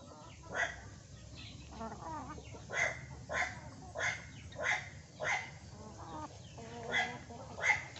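Native chickens cluck in a repeated series of sharp calls, roughly one every second, close by over a quiet background.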